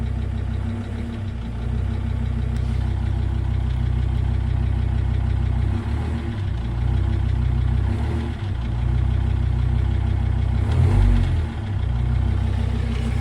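A car engine idles steadily for the full stretch, a constant low rumble with slight rises and dips in revs, close by and unaccompanied by talk.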